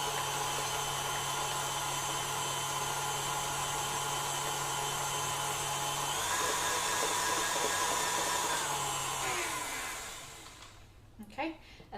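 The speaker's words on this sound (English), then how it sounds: "we're just going to give that a very light whisk just to incorporate it" Electric whisk or mixer running steadily while whisking batter for nougat and streusel muffins, a loud continuous motor whine that shifts pitch briefly before winding down and stopping near the end.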